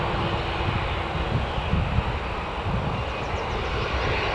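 Jet aircraft at Newcastle Airport, a steady broad engine roar filling the air throughout, constant and fairly loud like an airliner taxiing or idling nearby, mixed with some wind noise.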